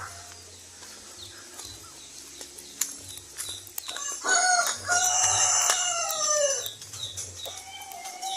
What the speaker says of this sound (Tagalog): Maraming mga sisiu.